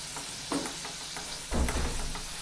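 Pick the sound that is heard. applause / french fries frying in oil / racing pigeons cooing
french fries frying in oil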